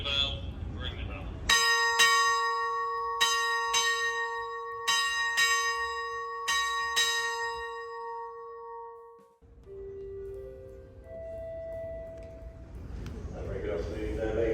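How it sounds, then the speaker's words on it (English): The ship's bell aboard the Queen Mary 2 ocean liner is struck at noon in four pairs of bright, ringing strokes whose long metallic tone decays afterward, with voices talking before and after. "The ship's bell was also here. It was rung at noon each day"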